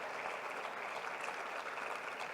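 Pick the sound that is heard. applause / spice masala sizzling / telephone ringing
applause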